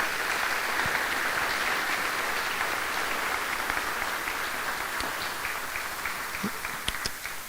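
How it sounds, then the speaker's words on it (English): An audience at a school senior scholarship and award event applauds a retiring staff member with sustained, dense clapping. It tapers slightly toward the end, where a few isolated louder claps stand out. "Let's give Connie a round of applause"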